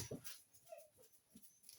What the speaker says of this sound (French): j'ai 2 chiens qui pleurent un petit peu